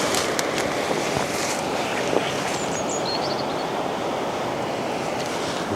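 Water on the Hampshire Avon at Britford rushes steadily through a weir in a broad, constant roar with faint higher splashes, and no voices are heard.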